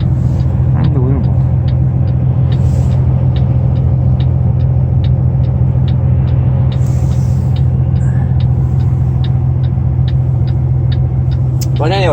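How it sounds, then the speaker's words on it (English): Inside the cab of a truck pulling an empty 100-ton lowboy trailer toward Dickinson, North Dakota, a steady low engine and road drone runs throughout, with a regular faint ticking and occasional brief passing sounds. "so much traffic here, it's unbelievable"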